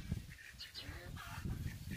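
Chickens and roosters cluck faintly on a farm that also keeps swans, geese and ducks, with scattered short calls over a rough outdoor background.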